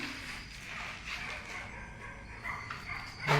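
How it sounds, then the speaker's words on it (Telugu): Dogs barking in the distance, a few faint yips and barks over a noisy background, with a louder bark near the end. "డాగ్స్ మాత్రం సౌండ్ మాత్రం ఆపట్లేవు రా."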